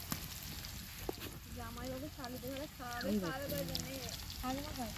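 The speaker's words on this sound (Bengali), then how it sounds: "এই দেখো কড়াই দিয়ে দিয়েছি এখন আলু ভাজা হচ্ছে" Potatoes fry in a wok at an outdoor New Year picnic, a steady hiss and sizzle running continuously under several people talking nearby.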